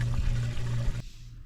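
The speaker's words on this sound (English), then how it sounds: "here he's priming the pump, backfilling it so that you can turn the pump on" Water is poured into a backyard pond waterfall pump to prime and backfill it, a steady gurgling, splashing pour up close that stops abruptly partway through, leaving a quieter low hum.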